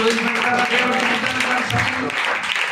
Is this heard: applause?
yes